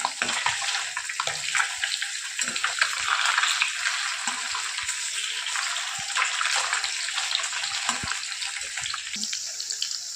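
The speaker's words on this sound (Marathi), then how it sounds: "फिश आपली चांगल्या प्रकारे फ्राय झालेली आहे" Fish pieces frying in a pan make a dense, continuous crackling sizzle with small bursts of spitting oil, close and fairly loud.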